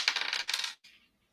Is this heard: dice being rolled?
yes